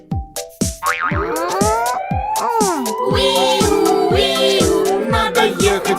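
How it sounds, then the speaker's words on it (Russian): A toy fire truck siren wails in a rising and falling electronic tone, preceded by a few bouncy boing sounds and accompanied by a steady rhythmic beat. "Это сирена, посмотри."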